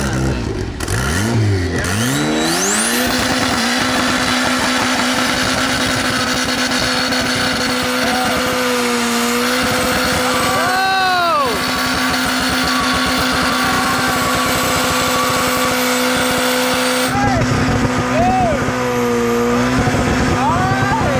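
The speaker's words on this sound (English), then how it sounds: "let's see your burnout, dude" Car burnout with the engine revving hard, a rising then sustained high-pitched whine, loud and close, with shouting voices and cheers over it.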